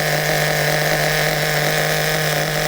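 An HPI Super Nitro RS4 RC car's small nitro engine idles with a steady, high-pitched buzzing drone, close and constant with no breaks.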